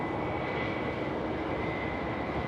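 A Jetstar airliner, flight 202, arrives at Sydney Airport, its engines making a loud, continuous roar with a steady high whine running through it, and no voices over it.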